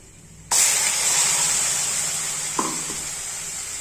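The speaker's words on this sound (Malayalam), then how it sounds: "ഇനി ഇതിലേക്ക് നമ്മൾ അരച്ചു വെച്ചിരിക്കുന്ന ചമ്മന്തിയുടെ കൂട്ടൊന്ന് ഇട്ട് കൊടുക്കാം" Ground chutney paste hits hot oil in a pan and bursts into a loud, steady sizzle that holds and slowly fades, with a brief scrape of stirring partway through.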